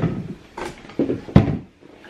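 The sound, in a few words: drawer opening or closing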